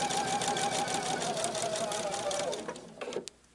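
A domestic sewing machine stitches pieces of an on-point quilt, running with a loud, fast, steady mechanical whir close by, then slowing and stopping with a few clicks near the end.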